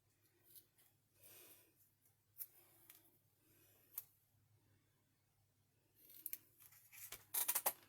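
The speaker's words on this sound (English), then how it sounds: "I'm going to snip these rounded corners off" Scissors snipping the rounded corners off paper for an art journal page: a few faint, sparse, crisp cuts in a quiet room, with a quick cluster of louder snips near the end.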